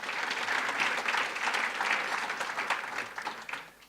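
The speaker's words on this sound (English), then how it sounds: "So let's give him some applause once again." An audience at a jobs summit gives a speaker a round of applause, a steady wash of many hands clapping that tapers off toward the end.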